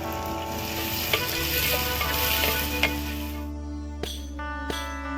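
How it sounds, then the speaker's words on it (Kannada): Tomatoes drop into hot oil already seasoned with spices, giving a steady close sizzle and frying hiss with a few stirring clinks, then a sharper burst of crackling as they land near the end. "ಈಗ ಇದ್ರ ಒಳಗ ಟಮಾಟೆ ಹಾಕೊಂತೇನೆ ನೋಡ್ರಿ."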